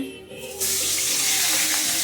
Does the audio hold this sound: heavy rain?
no